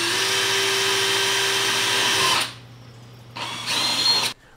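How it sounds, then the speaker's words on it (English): A power drill bores a hole for tubing on a CO2 scrubber, a loud steady whine for over two seconds, then a pause and a second short burst of drilling. "You just need a drill and a drill bit that's gonna match the size of your tubing."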